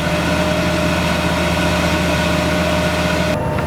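A machine's engine, likely a boom lift's, runs steadily at full throttle, a loud continuous low drone during a boom hydraulic pressure test, with the note shifting near the end.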